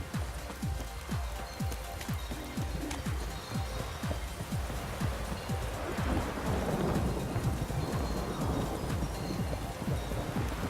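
Steady rain and low rumbling thunder fill a scene in The Witcher 3 video game, with a dense, continuous wash of rain and rolling thunder that swells toward the middle and stays constant throughout.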